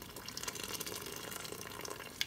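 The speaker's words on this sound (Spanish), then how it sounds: "aquí se la vamos a agregar, el agua bien calientita." Very hot water is poured into a pot of white menudo, a steady, soft splashing gush that runs continuously for a couple of seconds and ends with a small clink.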